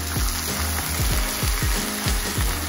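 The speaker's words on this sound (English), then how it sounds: "So what I like to do is add a little bit of white wine" White wine poured into a hot pan of slightly burnt onions sizzles and fries steadily, with stirring scrapes and low thumps from the pan throughout, close and fairly loud.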